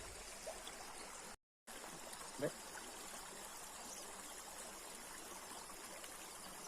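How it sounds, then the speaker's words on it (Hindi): Steady broadband rush of a flowing river in India, continuous and fairly even throughout, with a brief dropout partway and a faint knock. "तो ये आप देख सकते हैं ये नदी है"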